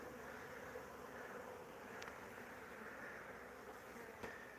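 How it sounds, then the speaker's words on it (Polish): Honey bees working around hives produce a steady, faint, continuous buzzing drone that holds evenly throughout, with a couple of brief sharp ticks breaking through. "Dzisiaj pięknie pszczoły pracują"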